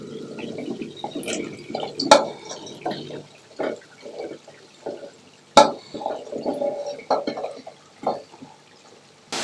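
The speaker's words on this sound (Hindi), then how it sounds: "अभी ये इसके अंदर डाल देंगे" Sliced okra drops into a pot while cooking beef bhindi gosht, giving irregular soft plops, scrapes and a couple of sharp clanks of utensil on metal, close and uneven throughout.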